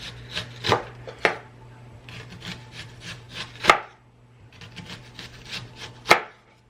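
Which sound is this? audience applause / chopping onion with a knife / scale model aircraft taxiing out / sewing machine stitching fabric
chopping onion with a knife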